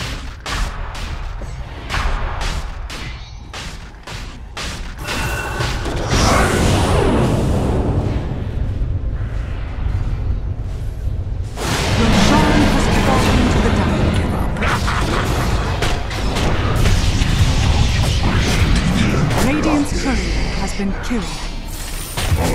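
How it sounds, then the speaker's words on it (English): Dota 2 combat around a tower under attack: dense, continuous bursts of booming impacts, clashing effects and crashes, with a game announcer voice speaking over the action. "Dire's bottom tower is under attack"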